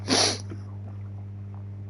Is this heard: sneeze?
yes